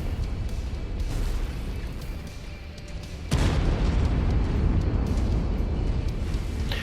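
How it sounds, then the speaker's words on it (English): Heavy anti-aircraft artillery cannons booming in MechWarrior 5, a continuous rumbling barrage that swells suddenly louder partway through, dense deep blasts rolling without pause. "That screen shake and booming noise is coming from these heavy anti-aircraft artillery cannons that you see scattered around multiple maps"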